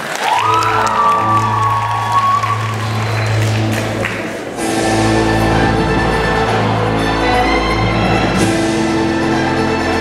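An audience at a student stage-performance show at a university medical faculty claps and cheers loudly, with sustained dense applause and whoops throughout.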